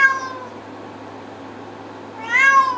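A cat lets out a drawn-out, harsh yowl, loud and close, fading to a low strained moan and rising again into another wailing cry.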